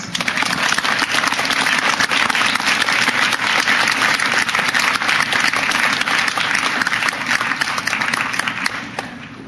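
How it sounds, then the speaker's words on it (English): An audience applauds a para-equestrian dressage award winner at an awards ceremony, a dense, steady wash of clapping from many hands that stays loud throughout before easing slightly at the very end. "Join me in giving her a warm round of applause."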